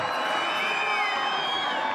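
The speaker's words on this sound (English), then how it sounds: "You can understand the cheers." A crowd at the Swatch Rocket Air 2016 nighttime snowboard big-air event cheers and whoops steadily, a dense wash of many voices held at an even level for the whole stretch.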